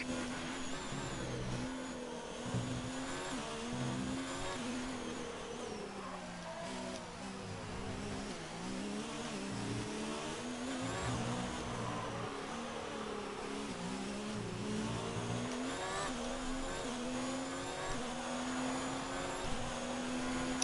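F1 race car in a wet race at Mexico in the video game F1 2019, a continuous buzzing engine whine rising and falling through gear changes for about twenty seconds, fairly quiet and steady with no voices.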